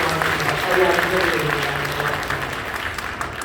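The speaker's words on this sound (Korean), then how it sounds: "환영합니다. 박수로 감사합니다." A church congregation applauding during a service, with steady, dense clapping from many hands that fills the room and slowly tapers off, under and alongside a voice speaking.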